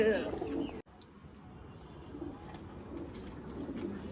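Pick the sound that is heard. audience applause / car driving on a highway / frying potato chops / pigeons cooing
pigeons cooing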